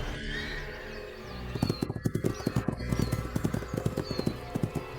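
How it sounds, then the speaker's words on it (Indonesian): Three horses arrive, their hooves clip-clopping in a quick, steady rhythm that starts a little way in and stays close and clear, after a brief whinny near the start. "ada 3 kuda datang dari selatan"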